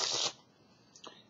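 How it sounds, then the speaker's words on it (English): Playing cards are riffled together in a perfect shuffle, giving a brief crisp burst of rapid fluttering at close range, followed by a faint soft click as the deck settles. "get a nice perfect shuffle"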